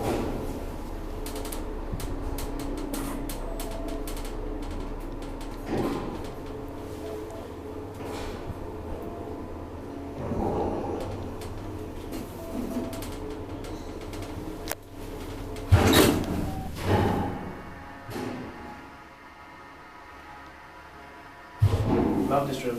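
A 1964 Kone traction freight elevator levelling at a floor and working its doors, with mechanical whirring, a few thuds and two sharp loud door clunks near the end, under people talking.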